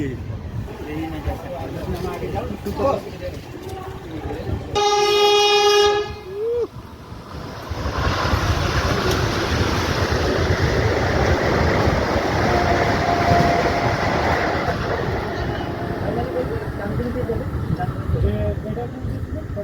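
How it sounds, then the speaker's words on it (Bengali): A Patna-Howrah Vande Bharat train passes the Malda-Bengaluru Amrit Bharat Express near Dankuni. A loud horn blast is followed by sustained rolling, rattling rail rumble, with people talking throughout. "এক্ষুনি পাটনা হাওড়া বন্ধ ভারত ক্রস হলো"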